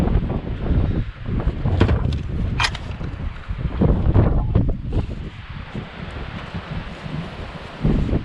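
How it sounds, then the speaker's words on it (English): Strong wind gusting outdoors in a garden during fence building, loud buffeting rushes that swell and ease over several seconds, with rustling and microphone wind noise. "Boy, it is so windy out."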